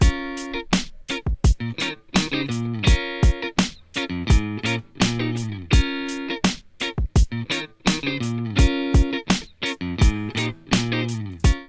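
A looping, plucked guitar riff plays with punchy drum hits on a steady beat, loud and up front, with no talking.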